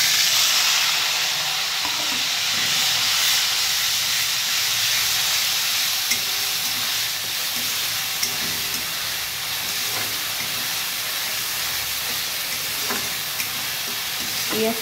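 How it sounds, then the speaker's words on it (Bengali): Onions fry in hot oil in a pan, a loud, steady sizzle and hiss sustained throughout with faint stirring clicks underneath, close up and without speech. "পেঁয়াজটা হালকা ব্রাউনিশ করে ভেজে নেব"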